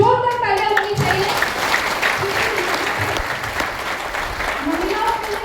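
A large audience at a direct selling program in Shirdi breaks into loud, sustained applause, a dense wash of clapping that carries on throughout, with a few voices faintly audible within the crowd.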